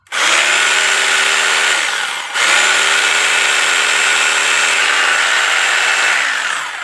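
Rotary hammer drill running in hammer-drill mode with the chuck turning left, a loud continuous whirring rattle that dips briefly around two seconds, then resumes steadily and alone.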